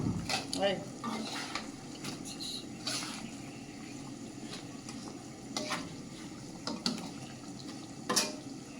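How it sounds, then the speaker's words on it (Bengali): Chicken pieces for a roast go into a pan of fried spices, setting off a steady sizzle with repeated scraping and stirring strokes of a utensil against the pan, close by. "মশলাগুলো কষানো হয়ে গেছে, আমি এখন চিকেনগুলো দিয়ে দেব"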